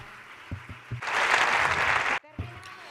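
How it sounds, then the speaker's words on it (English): A brief burst of audience applause at a tech summit, rising abruptly for about a second and then cutting off, with a voice speaking just before and after. "An applause, please."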